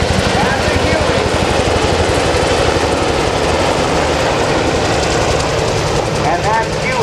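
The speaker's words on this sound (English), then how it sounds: "that Huey sound is so very, very unique." Army National Guard Huey and Blackhawk helicopters at a Rhode Island open house fill the air with a loud, continuous rotor drone. A rapid, rhythmic blade whap pulses throughout.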